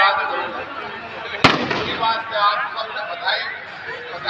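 A single sharp firecracker burst goes off at a mass wedding ceremony for dozens of couples in Jaipur, cutting through a continuous crowd hubbub and voices over a loudspeaker.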